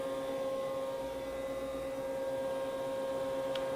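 A Haas EC-400 horizontal machining center from 2013 runs its spindle at 8000 RPM, giving a steady, even whine and hum that holds constant throughout at a moderate, distant level.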